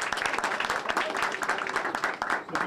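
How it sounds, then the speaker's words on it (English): An audience at the opening of a Boston community teen center gives a round of applause, a dense, steady wash of many hands clapping throughout, with some voices mixed into the clapping. "Give Mayor Walsh a round of applause."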